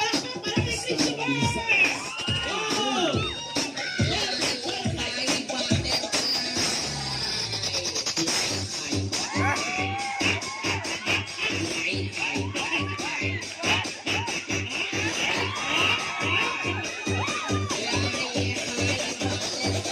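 A lively crowd cheers and shouts over music, with voices calling out and a steady beat thumping underneath.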